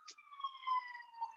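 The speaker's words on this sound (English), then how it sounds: "Sorry about the sirens there." Police siren passing through a downtown street, a steady wailing tone with harmonics sweeping slightly in pitch, moderately distant and continuous for the whole moment, preceded by a brief faint click.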